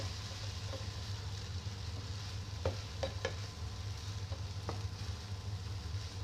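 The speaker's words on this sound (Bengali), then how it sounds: "আসলে নুডলস রান্না করতেছি" Noodles fry in a pan at low volume, a steady sizzle broken by a few sharp scrapes and taps of the stirring utensil against the pan, with a low hum underneath and no voices.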